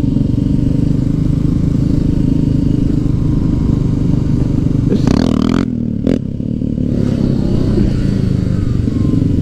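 A Suzuki GS500 parallel-twin 500 motorcycle at high speed gives a loud, steady engine drone with heavy wind rush throughout, briefly cut by a few sharp dropouts midway.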